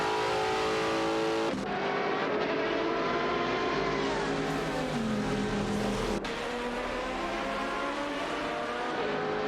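Race car engines from a Nissan 350Z GT1 and a Chrysler Viper GTSR in a video game roar continuously, pitch rising and falling as they accelerate and shift, loud and sustained.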